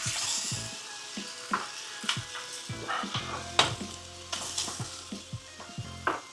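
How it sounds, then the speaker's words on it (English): Tomato sauce with cow skin and plenty of onions boils in a pot, a steady bubbling sizzle broken by sharp clinks and scrapes of stirring at irregular intervals. "We're gonna let it boil."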